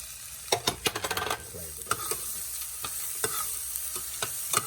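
Bell pepper and other vegetables sizzle steadily in a pan for Mexican rice, with a quick run of utensil clacks and scrapes early on, then sparser stirring strokes over the frying hiss, up close with no talk.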